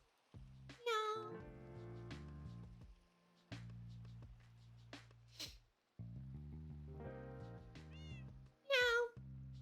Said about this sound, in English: Cat's been meowing.